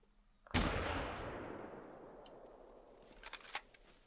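A single loud rifle shot is fired at an animal in the hunting video game theHunter: Call of the Wild, with a sharp crack and a long rolling echo that fades over several seconds.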